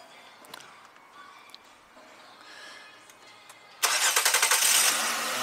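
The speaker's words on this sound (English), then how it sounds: "Josh, you want to go start the car?" A Ford Escape with a misfire fault cranks and catches after a quiet stretch of faint shop noise, the engine bursting loudly to life and settling into a rough, pulsing idle.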